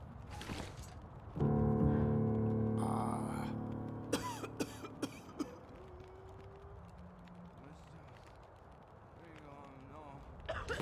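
In the survival video game The Long Dark, a few harsh coughs are heard near the start, and later sharp bursts follow under background ambience, with a voice speaking over parts of it.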